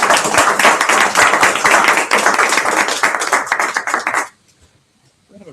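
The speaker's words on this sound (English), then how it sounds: "We should give them a round of applause." An audience breaks into a loud, dense round of applause at a Silicon Valley space center talk, clapping steadily for about four seconds before stopping abruptly into near silence.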